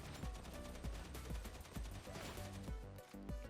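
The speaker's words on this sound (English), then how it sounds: "I'm going to try my best to keep the aim on him and full auto it and take out the gunner from a distance." Infantry autogun from Warhammer 40,000 Darktide firing full-auto in a thirty-meter range test, a dense run of rapid cracks over a busy background, with no talking.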